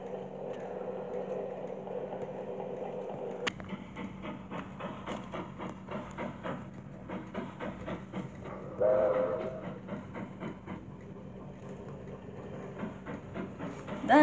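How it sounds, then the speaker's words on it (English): A toy Thomas the Tank Engine hauls a freight train along a track, its steady rolling clatter running throughout with regular rhythmic clicks, a sharp knock partway through and a brief whistle-like tone near the middle. "Thomas went slow at first with his freight train because he didn't want his freight train to derail early."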